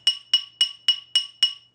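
A ball-peen hammer taps a brass ring on a ring mandrel: six evenly spaced, bright metallic strikes, each ringing briefly before the next, close and clear with no talking.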